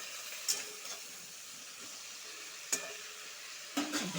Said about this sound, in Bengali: ভালো করে ভেজে নিব ফুলকপি আলু